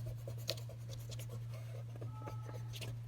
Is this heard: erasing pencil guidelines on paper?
yes